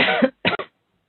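A couple of close, harsh coughs in quick succession, the second a short double hack, then silence.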